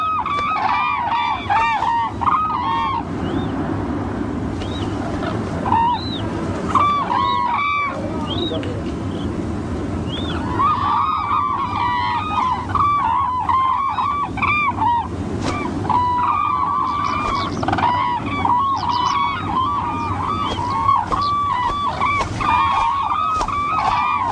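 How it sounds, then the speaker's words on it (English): Cranes calling in Bhutan as they circle over a monastery, a busy chorus of honking, bugling cries rising and falling over steady background wash, some calls near and others distant. "the cranes circle the monastery 3 times in a clockwise direction, announcing their arrival and devotion to this place"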